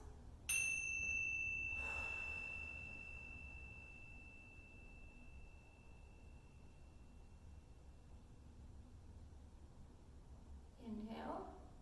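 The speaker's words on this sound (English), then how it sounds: "I'm going to ring the bells." A single bright tingsha bell chime rings out and slowly fades over several seconds in a quiet room, with a faint rustle near the end.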